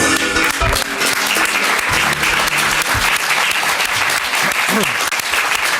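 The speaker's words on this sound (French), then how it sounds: "ces applaudissements vous sont offerts par 42 femmes paysannes de Combremont" Audience applause at a café show, loud and continuous clapping from a crowd, sustained throughout with a dense, even texture.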